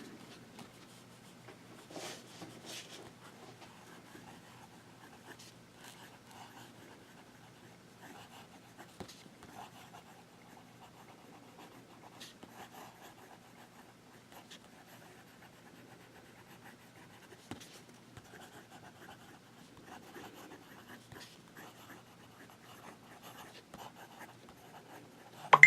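Conklin Yellowstone fountain pen with a wet, light-inked nib writing on Rhodia dot paper, giving a faint, steady scratching and rubbing of nib on paper that runs in short strokes and pauses, close and quiet.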